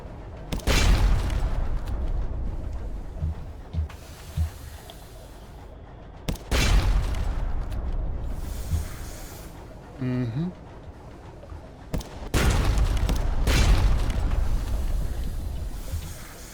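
Naval cannon fire from ships exchanging shots in the video game Sunless Sea: a few heavy, booming blasts rising out of a steady wash of sea and engine ambience, with someone talking over it.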